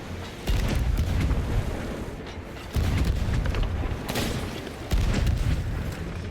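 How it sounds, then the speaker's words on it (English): Ship cannons boom in the pirate video game Sea of Thieves, with three heavy blasts spaced a couple of seconds apart over a constant rumbling sea-battle background. "where are their cannons going?"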